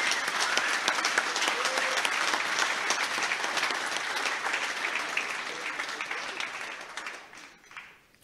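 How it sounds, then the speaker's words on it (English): A dinner crowd at a school's annual Old Boys Dinner claps in a steady, dense round of applause that holds for several seconds before tapering off at the end. "So can we just please give a round of applause to Mr. Jeff Mayer and Inga."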